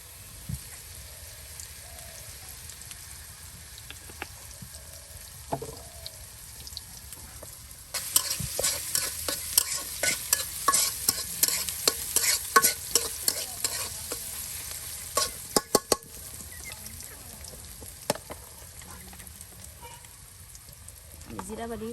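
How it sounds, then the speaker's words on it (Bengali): Onions frying in oil in a pan with cumin paste, for a radish-greens chorchori: a low sizzle at first, then louder, busy stirring and crackling for several seconds before easing back to a quiet fry. "পেঁয়াজটাকে একদম তেলের সাথে সুন্দর করে কিন্তু ভেজে নেওয়া হচ্ছে"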